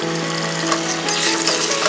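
Ginger, garlic and tomato paste sizzles loudly and steadily in hot oil with softened fried onions, cooking in a pan for a chicken curry.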